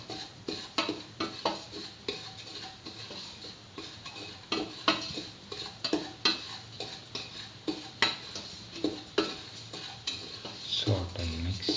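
A spoon stirs semolina roasting with ghee and cardamom in a pan, making steady repeated scrapes and clinks against the metal with a faint sizzle underneath, close and moderately loud.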